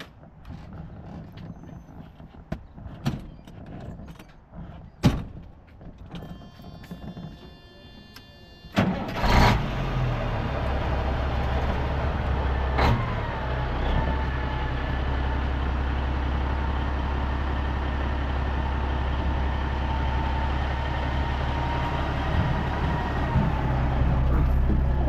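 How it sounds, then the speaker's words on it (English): A Peterbilt 359 truck engine cranks and catches after a few sharp clicks and creaks, then settles into a loud, steady, deep diesel idle that runs on alone without talk. "I'm going to stand outside while you start her up."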